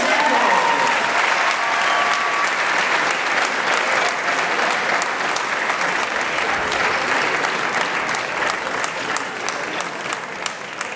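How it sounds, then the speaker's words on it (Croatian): Sustained, loud audience applause fills a school charity concert hall, dense and even from start to finish without pause. "Pozdravimo ih i zahvalimo velikim pljeskom."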